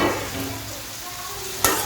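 Rice for veg pulao fries in hot oil while being stirred, making a continuous close sizzle with scraping, and a brief louder clatter near the end.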